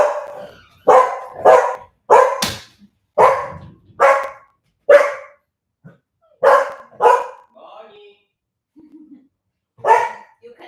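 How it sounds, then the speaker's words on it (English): Dogs at a breeding kennel bark close by in loud, sharp bursts, several rapid barks in clusters with short gaps, then a few softer yips and a final bark after a pause. "you can hear that Rosie is already a little bit nervous because she hear that we are calling dogs"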